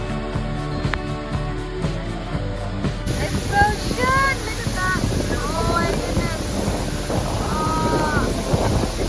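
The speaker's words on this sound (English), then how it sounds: "So windy, but we were sweating a lot, so it's nice" Strong wind gusts buffet the microphone beside waterfalls, a broad rushing roar with constant water noise, while people talk and make brief vocal sounds over it.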